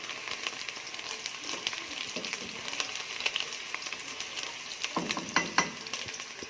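Onions and garlic sizzling and frying in a pan while being stirred, a steady crackling hiss with scraping stir strokes and a few louder clatters near the end.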